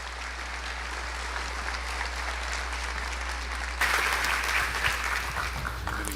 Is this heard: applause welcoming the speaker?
yes